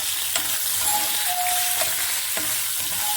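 Dried red chillies and then green chillies fry in hot oil for a tempering, giving a steady close sizzle with a few stirring clicks and scrapes, with no voices over it.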